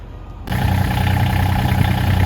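Glow-plug diesel engine of a Massey garden tractor catches after a brief quiet moment and settles into a loud, steady, close-up chugging idle.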